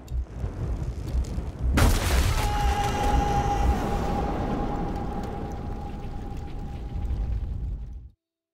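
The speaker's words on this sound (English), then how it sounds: "I survived, and I thought I'd heard gunshots." Gunfire in the video game 11-11 Memories Retold lands as a heavy booming blast, followed by a long rumbling wash of noise and a sustained tone that fades out after several seconds.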